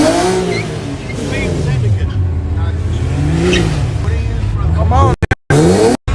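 A bone stock V6 car, apparently a Ford Maverick, revs in rising and falling surges close by, with a tire squeal near the end; people talk over the engine noise.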